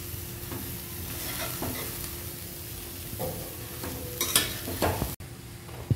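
Shredded cabbage is stir-fried and tossed with dal, chilli and garlic, giving a steady sizzle broken by scraping stirs and a few louder clatters of the spoon, close up and without talk.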